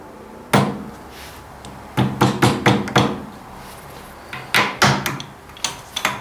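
Sharp hammer blows strike in uneven bursts on a Ford 800 tractor's front axle, several quick knocks clustered together, close and loud, with brief pauses between groups.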